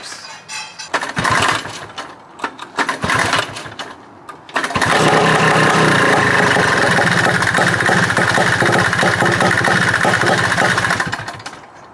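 A neglected 1983 Honda Odyssey FL250 go-kart engine sputters through a few rough starting bursts, then catches and runs loudly and steadily at close range with a ragged, buzzing idle before cutting off at the end.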